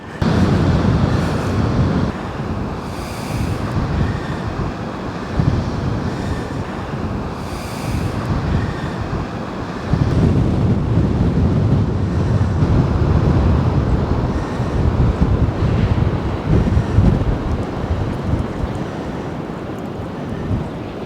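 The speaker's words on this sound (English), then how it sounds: "the wind is brutal" Strong, cold wind buffets the microphone on the coast at Cape Henlopen State Park, a loud continuous roar with gusts, mixed with distant surf.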